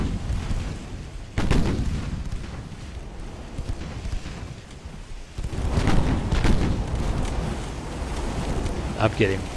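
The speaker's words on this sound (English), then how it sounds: "We're being fired at by transport 4-inch guns." Transport ships' 4-inch guns fire in a naval battle in Ultimate Admiral: Dreadnoughts, with sharp booms and rumbling blasts scattered through, several of them close, while someone talks over them.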